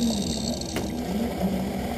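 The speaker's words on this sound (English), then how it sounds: "pretty soon water's going to kick in to wash away any optical debris" Water sprays inside a lens edging machine as it bevels a prescription lens, washing away debris: a continuous hissing, splashing wash with a low motor hum underneath and a brief sharp click partway through.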